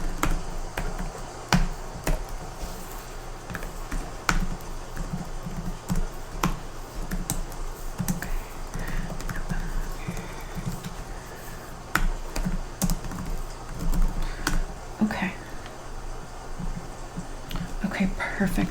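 Rapid typing on a computer keyboard during a hotel check-in role-play, close and crisp, with irregular bursts of clicking throughout and soft whispered speech mixed in.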